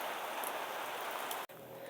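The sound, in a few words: rain falling during a motorbike ride in Kennon Road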